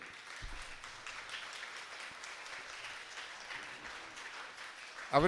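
A church audience at a Way of the Cross passion recital claps in thanks, a faint steady patter of applause throughout, with a brief louder bump at the very end.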